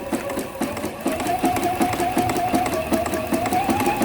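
A sewing machine stitches machine appliqué on a Christmas tree quilt, its needle hammering in a fast, even rhythm with a steady motor whine, close and continuous.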